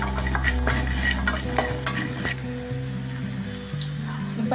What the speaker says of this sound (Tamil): சேர்த்துட்டு நல்லா மிக்ஸ் பண்ணி வதக்கிக்கிறோம்